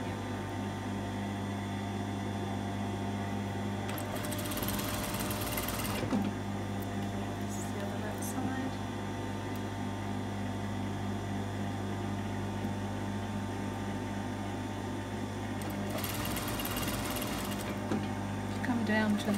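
A sewing machine stitching a seam on a woven dress, a steady close mechanical hum with two brief bursts of faster whirring, while people talk over it.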